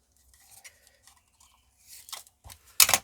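A piece of rubber is cut with a few short snips and crunching cuts, sparse at first and then building to a louder, sharper final cut, close up with no talking.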